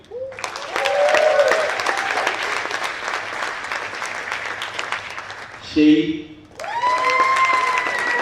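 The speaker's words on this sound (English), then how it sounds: "They are the ones shouting and clapping." Audience clapping and shouting at the 2018 Internet Freedom Forum, sustained loud applause with cheers, briefly interrupted by a short spoken word before the clapping swells again.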